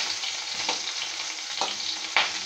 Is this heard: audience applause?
no